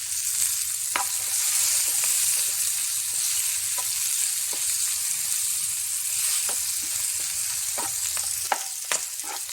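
Onions sautéing in a pan with salt added, a steady close sizzle with scattered pops and stirring scrapes throughout, alone without talk.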